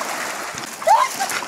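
A dog swimming after a stick in the Black Sea makes a brief splash on the water, heard close over soft surf, with a voice faintly in the background.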